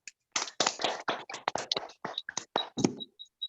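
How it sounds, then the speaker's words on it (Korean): Sharp, separate claps and hand taps from several participants in a Zoom meeting, uneven and quiet, with a few faint electronic beeps near the end. "힘차게 박수 한번 주세요."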